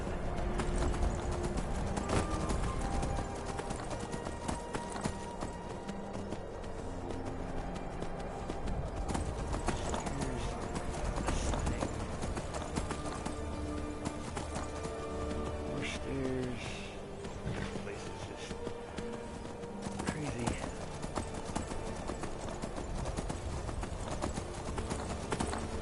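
Steady clip-clop of a horse galloping in the video game Skyrim, continuous rhythmic hoofbeats under a game soundscape while someone talks over it.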